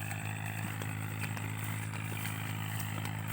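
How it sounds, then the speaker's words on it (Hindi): Tractor engine running in a farm field, a steady low drone with faint rattling that continues without a break, fairly distant and quiet. "अभी यहाँ साथ में एक ट्रैक्टर चल रहा है,"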